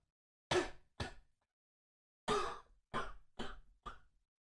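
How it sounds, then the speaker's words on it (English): A handful of short, muffled coughs in two clusters, several separated bursts after a pause, sounding soft and removed as if coming from somewhere beyond a wall or down a hallway, with silence in between. "A distant cough."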